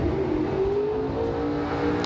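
A Ford-powered Probe drag race car at a bracket racing event holds a steady, loud engine drone with a rising whine, running continuously for a couple of seconds without pause.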